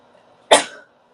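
A single sharp sneeze bursts out close and loud, with a quick explosive onset that trails off over a fraction of a second, followed by silence.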